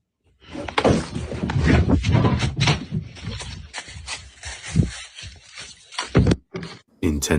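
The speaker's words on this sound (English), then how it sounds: "Intense knocking and banging is heard coming from within the shed" Loud knocking and banging from inside a wooden shed, a rapid series of irregular thuds and bumps that goes on for several seconds, with a few sharp louder hits near the end.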